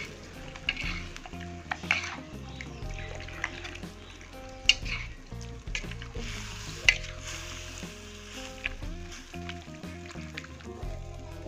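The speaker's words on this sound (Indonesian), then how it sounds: "Kemudian kita tambahkan cuka. Kita aduk kembali." Boiled beef with vinegar, an Acehnese daging cuka, sizzles in a pan as it is stirred, with a moderate crackle and intermittent scraping and liquid squishing throughout.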